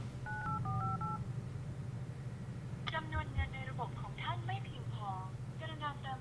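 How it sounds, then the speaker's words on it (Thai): Keypad tones from an unlocked mobile phone placing an outgoing call, first a few spaced beeps, then a rapid run of short dialing beeps in bursts, over a low background hum with faint talk. "เดี๋ยวเราลองโทรออกนะครับ"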